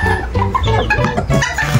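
Several small Serama chickens cluck and chatter close by, a busy overlapping series of short clucks with no pauses.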